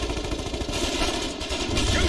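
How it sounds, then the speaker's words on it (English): Rapid machine-gun bursts in the war video game Foxhole, a dense, loud fusillade of overlapping shots continuing for about two seconds. "Shooting now!"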